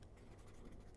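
Chalk or a marker scratches across a board during a maths lecture on limits and ratio tests, giving quiet, fast rhythmic strokes for about a second with a sharper tap at the end.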